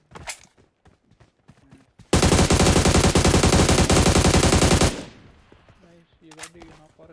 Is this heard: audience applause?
no